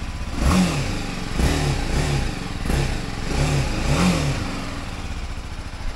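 A nearly new motorcycle, a BMW G 310 GS or a Honda XR650L with about 12 miles on it, idles and revs up close in a steady run of throttle blips that rise and fall for several seconds.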